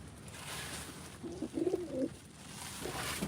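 Ankara Çinçin pigeons coo briefly in a short soft burst over a faint background hiss, fairly quiet and close by.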